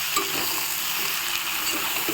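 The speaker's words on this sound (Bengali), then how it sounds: "এটাও একটু হালকা হালকা করে ভেজে নেব।" Ridge gourd and potato frying in a pan, a steady close sizzle with faint stirring scrapes running throughout, no voices.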